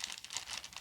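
Small plastic bags holding handmade earrings crinkle briefly up close, a quick soft rustling burst.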